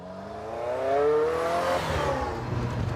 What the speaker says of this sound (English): You can always hear the turbos whining.